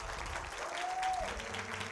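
Church congregation clapping hands in praise during worship, a steady, fairly quiet wash of applause lasting about two seconds.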